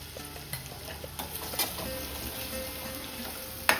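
Garlic, ginger and chili paste with a little turmeric sizzles softly in hot oil, with a quiet steady frying hiss, a few light stirring scrapes and a sharper clink near the end.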